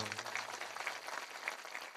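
Faint, distant audience applause at a Marathi devotional talk on soldiers, a steady diffuse patter of clapping from a crowd with no voices over it.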